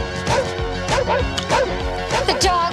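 Dog barking and whimpering in a comedy film trailer, a string of loud, close yelps and whines mixed with crashing clatter, set against music and a dense soundtrack.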